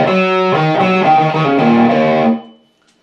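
Electric guitar with distortion plays a short intro tag, a quick run of sustained, overdriven notes and bends lasting about two seconds before cutting to silence.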